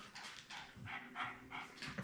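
Puppies bark and yip indoors in quick, soft bursts, several short calls overlapping at a moderate distance with faint panting between them.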